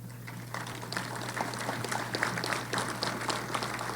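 An audience at a fall ECE graduation ceremony applauding PhD graduates, a dense, steady patter of many hands clapping heard from across the hall, with a low hum underneath.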